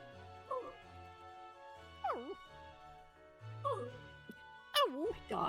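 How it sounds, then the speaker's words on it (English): A pet dog whimpers and yips in the background, giving three or four short whines that bend up and down in pitch and are spaced a second or so apart at moderate loudness. "My dog in the background."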